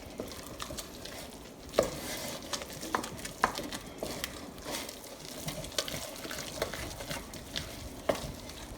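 Milk stirred into a roux for macaroni cheese sauce in a pan, a faint continuous wet swishing with occasional light clicks and scrapes of the spoon, with no talk.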